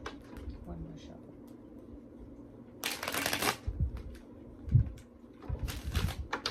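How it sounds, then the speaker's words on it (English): Tarot cards are shuffled in two loud riffling bursts, each followed by soft tapping as the deck settles, with a voice talking quietly and low hum between them. "One more shuffle."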